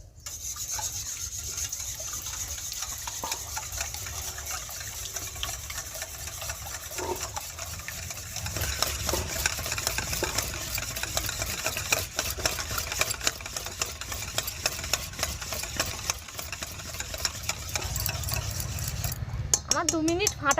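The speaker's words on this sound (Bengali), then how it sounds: "ডিম আর তেলটা আমি 2 মিনিট ভালো করে ফেটে নেব।" Eggs and oil beaten together in a bowl for homemade cake batter, a steady, fast rhythmic whisking and scraping that runs on continuously, close and moderately loud, with a few brief pauses.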